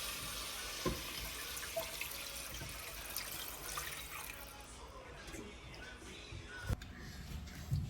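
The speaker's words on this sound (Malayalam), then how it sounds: "ആവശ്യത്തിനുള്ള വെള്ളം ഒഴിക്കണം." Water is poured into a cooking pot of chicken for soup, a steady close splashing and gurgling stream running throughout with a few small knocks.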